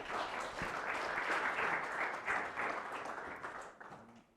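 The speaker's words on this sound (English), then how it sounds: "please give a big round of applause" A meetup audience in Sheffield applauds as a speaker is welcomed to the stage, a steady dense round of clapping from many hands that holds evenly and then fades away at the end.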